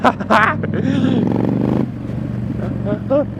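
Street scrambler motorcycle ridden off-road in second gear, its engine droning steadily under excited talk from the rider, with a rise in pitch near the start and wind noise throughout.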